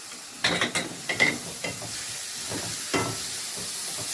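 Tomatoes and spices stir-fried in a pan give soft sizzling under a series of quick scraping and clattering stirs, close and irregular, with a steady frying hiss between them.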